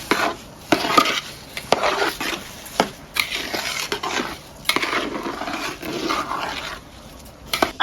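Washed chinigura rice sizzles and scrapes in oil in a pan, with a spatula stirring in irregular strokes and clinks against the metal, close and fairly loud.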